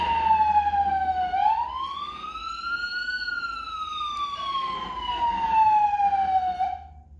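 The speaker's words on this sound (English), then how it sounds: "wow, I hope he turns this siren off." An emergency vehicle siren wails continuously at an aircraft incident response scene, a single loud tone slowly rising and falling in long sweeps close by, with engine rumble underneath.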